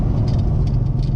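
A 2009 Chevrolet Corvette C6 3LT under hard acceleration, its engine a dense, loud low roar heard up close, steady for a brief burst with no talk over it.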